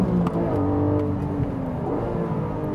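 A Porsche 718 GTS 4.0 engine revs hard in second gear close to its 7,800 RPM rev limiter, a loud, steady, throaty howl with a slight dip and recovery, heard up close with no voices.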